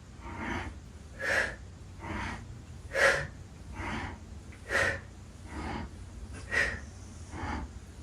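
Deep breaths in and out during a spinal twisting exercise come in a steady, close rhythm, with a loud breath roughly every second alternating with softer ones.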